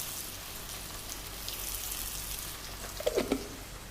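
Onions with a small pinch of salt frying in a pan, a soft, steady sizzle close by with faint crackles and a brief burst of louder spattering near the end, no voices.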